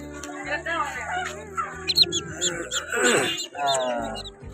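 Geese honk and Chinese-duck ducklings cheep in a busy, noisy market, with people talking throughout.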